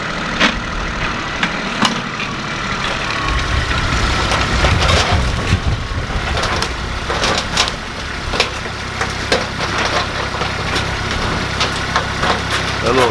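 A small four-wheel-drive tractor works dirt while cleaning a barnyard, its engine a steady close rumble throughout with scraping and knocking over the top and a heavier surge of load partway through.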